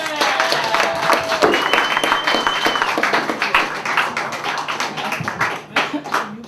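A comedy club crowd applauds comedian Kenny Warren with loud, dense clapping and shrill whistles that hold steady, then thin out near the end, with a voice faintly over the noise.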